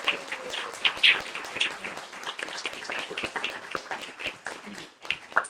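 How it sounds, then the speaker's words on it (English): Audience applause for a storyteller: a modest crowd clapping in irregular bursts, with a few sharp near claps and brief whoops standing out, tapering off toward the end. "one more round of applause for Eric Broom"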